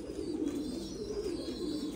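Parent Thai Titan meat pigeons coo in a steady, low, continuous murmur, close by and fairly faint, with no talking.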